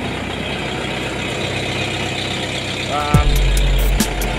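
Mercedes 508D truck with a new exhaust manifold and exhaust line, engine running with a steady low rumble and idle throb that swells louder near the end, close by, under a brief spoken interjection.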